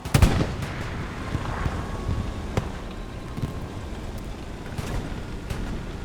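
Gunfire in the Hell Let Loose video game during a competitive match on the Purple Heart Lane map, a burst of sharp shots at the start followed by scattered single cracks over a low, rumbling battlefield bed.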